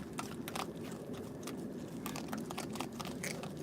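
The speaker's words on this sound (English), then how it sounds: "Crunching on the kibble." Raccoons crunch on dry kibble close by, making repeated sharp bites and chewing crunches in an uneven rhythm, with no talking.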